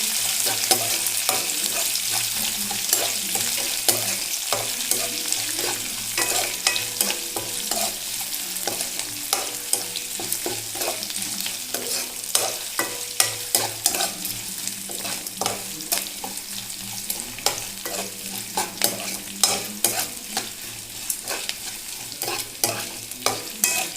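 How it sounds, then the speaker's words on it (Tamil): Onion and green chili frying and being stirred in a pan for a black chana sundal, a steady close sizzle with frequent scraping stir strokes throughout and no talking. "ஆனியன், பச்சை மிளகாய் எல்லாம் போட்டு நல்லா வதக்கிக்கோங்க."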